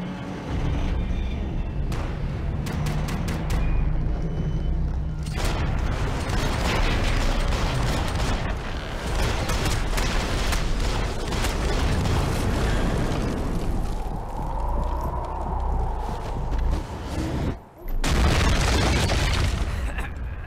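Heavy gunfire and booming blasts from Max Payne 3 roar almost continuously, loud and close, with sharp repeated shots early on and a brief pause near the end.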